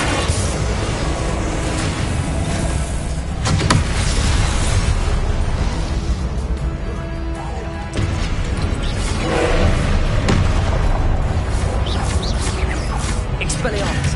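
Confringo spell blasts in the Hogwarts Legacy video game burst repeatedly amid a busy, loud fight, with booming hits and crashes under a voice shouting spell names throughout.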